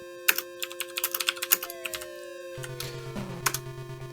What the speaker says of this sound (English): I love clackety keyboards, okay?